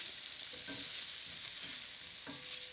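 Shrimp sizzling in a frying pan for risotto, a steady loud hiss of frying with faint stirring scrapes underneath and no talk.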